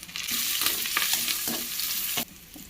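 Onions sautéing in a hot pan, a dense bright sizzle broken by repeated stirring scrapes, close and loud before the frying suddenly drops away near the end.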